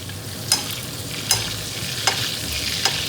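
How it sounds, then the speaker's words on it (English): Steady, dense sizzling of pork chops frying in butter in a pan, with a few soft clicks of a spoon basting at regular intervals, close by. "Listen to that sizzle."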